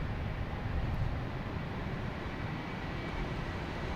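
An Aeromexico airliner arriving from Mexico City on runway 22 left makes a steady, broadband jet roar at moderate distance, continuous throughout with no talk.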